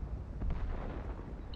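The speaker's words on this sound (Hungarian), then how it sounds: "Egy lövés." A tank cannon fires in a video game, with the BC 25t tank in play: a dense, heavy boom that rumbles low and stays loud for the whole short moment, with no talk over it.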